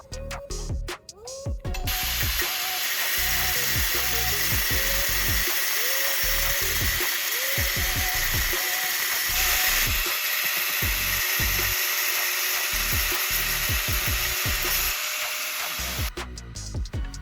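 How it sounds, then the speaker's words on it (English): A power cutting tool grinds steadily through the steel shell of a spark plug, a continuous, fairly loud whine with rapid scraping pulses running for over a dozen seconds, briefly stopping and restarting at the edges. "Once you cut along the correct line, the steel casing will quickly crack and pop off the inner core."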